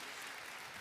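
Steady, dense clapping from an audience fills the arena at a horse trainers' competition. The burst is brief and continuous, with no voices standing out.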